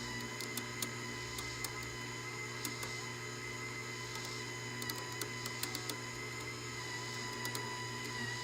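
Flux core wire feeding through a 125 amp MIG welder set to wire speed 6, giving a steady mechanical whir with a constant low hum and faint scattered clicks, close and alone.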